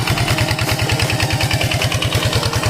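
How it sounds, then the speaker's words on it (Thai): A Kubota engine drives a water pump draining a fish pond, chugging in a fast, even, close-up rhythm with a clattery mechanical edge and no voices. "เครื่องยนต์คูโบต้านะครับดูน้ำ"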